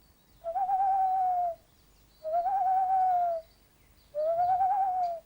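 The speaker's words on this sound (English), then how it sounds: "When spoken to, the owl in question hooted." An owl in a classic children's TV series hoots three times, each a long, steady, clear tone lasting about a second, separated by short pauses and heard close and alone.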